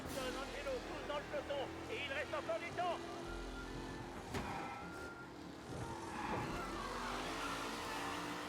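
Car drifting in the video game Mafia, a steady engine drone with tire squeal running through the whole stretch, while someone talks over it.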